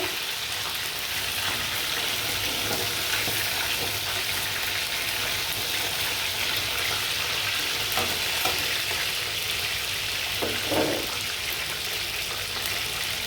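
Chicken fries in a pan with a steady, dense sizzle that runs throughout, punctuated by occasional stirring scrapes, heard up close without voices.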